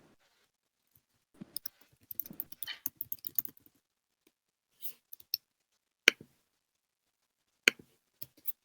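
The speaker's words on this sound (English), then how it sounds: "Got some typing." Sparse, quiet clicks and taps of typing on a computer keyboard come in short irregular bursts with pauses between, close but faint, with no voices.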